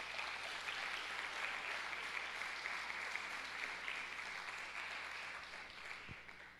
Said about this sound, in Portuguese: Você pode aplaudir o Senhor mais uma vez?